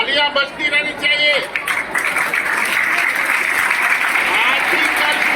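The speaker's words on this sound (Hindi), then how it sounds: "तालियां बजती रहनी चाहिए।" Audience applause at a school award ceremony honouring students for an international talent search exam, a steady wash of clapping throughout, with a voice speaking over the opening seconds.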